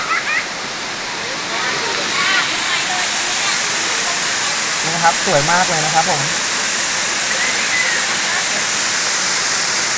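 Huai Mae Khamin waterfall, second tier, in Kanchanaburi, Thailand: a loud, steady roar of falling water filling the whole scene, with someone speaking briefly over it midway.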